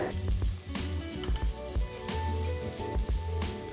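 Vegetables for palak pulao sizzle steadily in a hot pan, with repeated scraping and clacking of a spoon stirring them, close by.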